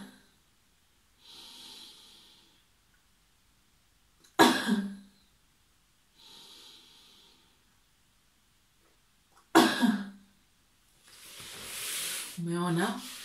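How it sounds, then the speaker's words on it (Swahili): During a Covid-19 proning breathing exercise, a person draws slow, deep breaths in through the nose, each followed by a sharp, close cough, three coughs in all, with no talking. "nimevuta pumzi ndefu ndani kwa njia ya pua na kutoa kwa kukohoa mara tatu"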